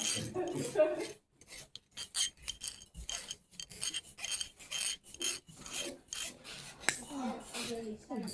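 A hand file rasps across aluminum metal in a steady run of short back-and-forth strokes, close and fairly loud, with brief pauses between passes.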